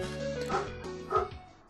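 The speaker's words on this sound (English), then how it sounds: "shut these dogs up. Man, dogs can be such a nuisance, you know?" Dogs bark in the Brain Lord video game, a short run of quick high-pitched yips and barks in close succession, fairly faint and alone.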